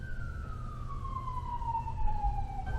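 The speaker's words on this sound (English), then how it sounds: "I have to apologize for the soundtrack of our city. We have a little bit of sirens here." A single siren wails on a city street in central downtown Baltimore, its long tone sliding slowly downward as it passes at moderate distance over steady low traffic rumble, with no voices.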